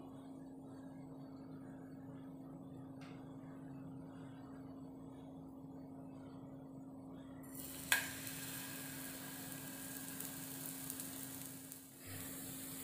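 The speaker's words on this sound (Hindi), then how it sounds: "मैं एग्स को शैलो फ्राई कर ले रही हूँ" Batter-dipped boiled eggs shallow frying in a pan, a quiet steady sizzle under a low hum, with a faint clink around the middle and the frying growing brighter after it.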